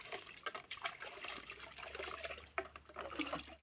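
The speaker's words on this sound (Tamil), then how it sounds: "இப்போ நாங்கள் தண்ணி ஊற்றுவோம்" Water poured from a bucket onto newly planted aloe in a home garden, a soft steady trickle and splash onto soil, faint and continuous throughout.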